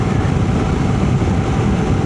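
A 2025 Honda CRF300L Rally motorcycle cruises in sixth gear, giving a steady, dense low rumble with broadband road and wind noise that stays even throughout.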